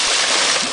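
A single broadband splash as a person jumps into a bayou creek, a brief burst of churning water, close and loud, with no talking.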